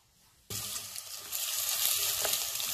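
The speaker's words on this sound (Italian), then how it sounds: "Comincia a sfrigolare, sentite?" A sudden loud sizzle as carrots, other vegetables and scampi shells hit a hot pan on a gas stove, then a steady crackling hiss that grows slightly stronger, close up with no talking.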